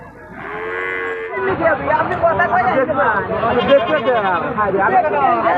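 A cow gives a long, loud, close moo at a busy cattle market with bulls and goats, while a crowd chatters and people talk over the background.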